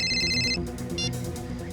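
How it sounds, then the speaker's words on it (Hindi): A mobile phone rings with an incoming call while a man rests in his parked auto-rickshaw. The bright electronic ringtone gives a short burst of repeated tones, a brief pause, then resumes with no talking over it. "ये दिनेश क्यों फोन कर रहा है मुझे?"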